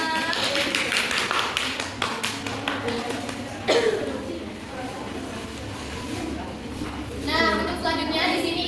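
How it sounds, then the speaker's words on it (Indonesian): A grade 4 classroom claps hands in a quick burst of sharp claps, with children's and an adult's voices talking over and after it. "Beri tepuk tangan untuk kita semua."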